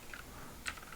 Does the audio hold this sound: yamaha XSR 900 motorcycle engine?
no